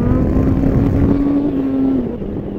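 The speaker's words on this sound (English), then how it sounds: "You just twist the wrist and it just pops. I am in love with this motorcycle" A motorcycle engine drones loudly and close with a sustained rev that holds steady, then eases off near the end.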